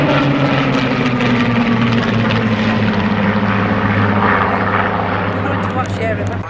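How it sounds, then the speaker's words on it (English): Battle of Britain Memorial Flight fighter planes arrive at the Cosford Airshow, a loud, sustained propeller engine drone filling the air with talk heard over it. "look at the Battle of Britain Memorial fighters arriving"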